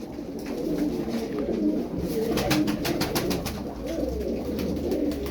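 Several cooped pigeons coo continuously at close range, their low throaty calls overlapping, with occasional wing flutters and rustling.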